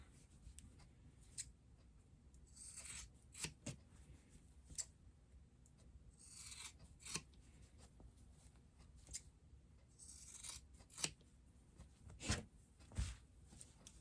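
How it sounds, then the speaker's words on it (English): Scissors trim the fabric seam allowance of a microwaveable bowl cozy with a handful of crisp, quiet snips. The cuts come close up, spaced by short pauses, with faint handling rustle between them. "I like to go ahead and trim down that seam allowance to about 1/4 inch"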